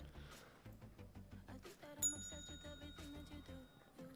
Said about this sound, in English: Like a bell ringing.